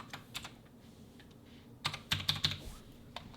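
Scattered keystrokes on a computer keyboard while notes are typed during an online Omaha poker session, a few soft taps at first, then a brief, louder burst of clicks, with no talking.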